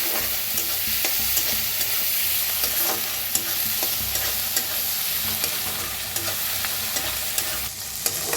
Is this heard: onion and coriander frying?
yes